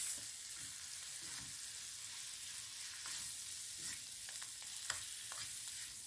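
Ground meat with spices frying over high heat in a pan gives a steady, close hiss and sizzle, broken by the occasional soft scrape and tap of a utensil as the meat is stirred and broken up.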